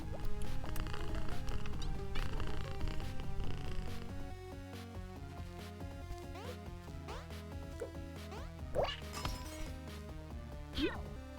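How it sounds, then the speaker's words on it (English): A cat purrs at a checkpoint in the candy-themed video game Candylands Journey, a low steady rumble under the game's music and chiming effects, no speech. "The checkpoint purrs."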